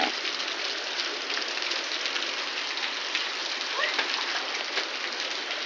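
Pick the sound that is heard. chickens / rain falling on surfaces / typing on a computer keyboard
rain falling on surfaces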